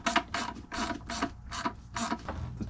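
Close, loud ratchet clicking in six quick rhythmic strokes as bolts on a Jeep Wrangler JKU oil filter and cooler housing are snugged down.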